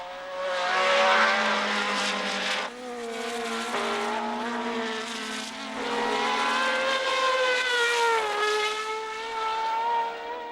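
Lotus 49 Formula 1 cars racing in 1970, high-pitched engine wails rising and falling as cars pass in succession, loud and continuous with shifting pitches.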